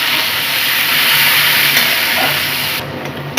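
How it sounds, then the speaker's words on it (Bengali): Chopped medium-sized onion fries in hot oil in a pan while paneer do pyaza is cooked in a home kitchen, a loud, close, continuous sizzling hiss that softens slightly toward the end. "এখানে একটা মিডিয়াম সাইজের পেঁয়াজ আমি কেটে নিয়েছি এটাকে একটু ভেজে নিচ্ছি"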